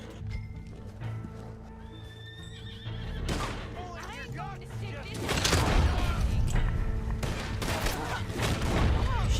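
Horse neighs and hoof clip-clops in the Red Dead Online video game, with a whinny early on and galloping hooves growing louder and busier toward the end, mixed with game ambience and occasional distant gunfire.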